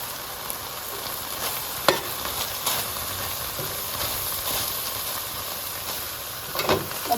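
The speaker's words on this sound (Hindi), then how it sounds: "अब इन सब्जियों के साथ चिकन को बहुत अच्छे से पका लेंगे" Chicken and finely chopped vegetables fry in a pan with a steady, close hiss and sizzle, broken by a few scraping stirs and brief clinks; no one speaks.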